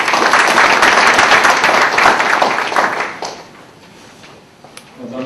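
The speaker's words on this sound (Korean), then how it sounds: "홍북선 교수님을 박수로 환영해 주시기 바랍니다" An audience at an international intellectual-property symposium applauds to welcome a professor to the stage, a loud burst of clapping for about three seconds that then fades away into quiet room noise and a few faint knocks.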